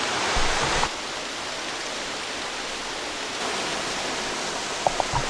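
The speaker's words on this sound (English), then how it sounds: "The waterfall is magnificent." A steady, broad roar of rushing water fills the scene, a waterfall pouring constantly with a few faint clicks near the end.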